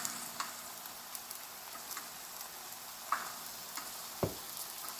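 Japanese eggplant sautés in a pan as the last of its water cooks off, giving a soft, low hiss punctuated by a few sharp spatters and faint clicks, with no talking.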